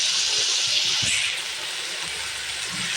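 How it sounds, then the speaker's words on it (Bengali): Ginger garlic paste, a bit too thin, hits a hot pan and sizzles with a steady, close hiss lasting about three seconds, briefly sharper in the middle. "এখন আমি আদা রসুনের পেস্টটা দিয়ে দিচ্ছি।"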